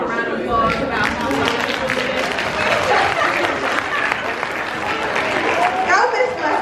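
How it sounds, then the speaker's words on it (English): A university audience at a talk event applauds in a steady, full-bodied wash of clapping, with cheers and voices mixed in throughout. "Can we just have a round of applause"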